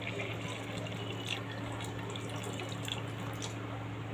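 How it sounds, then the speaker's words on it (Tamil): Strained tamarind water poured into a cooking pot for a chili tamarind gravy, a steady soft liquid pour and splash running continuously at low level, with no talking. "புளி கரைச்சி ஸ்ட்ரெயின் பண்ணி எடுத்து வச்சுருக்கேன் வடிகட்டி எடுத்து வச்சுருக்கேன் இப்போ அதை இதில் ஆட் பண்ணிக்கலாம்"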